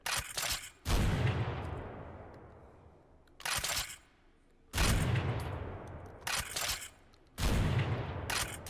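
A shotgun in the VR game H3VR fires slugs and buckshot in four loud, booming blasts spaced a couple of seconds apart, each rolling off into a long decaying tail, with quick mechanical clacks between the shots.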